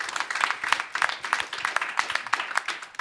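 A live audience at a marketing mastermind event in Miami claps for a departing guest. The clapping is fairly light and quick, with a voice faintly underneath.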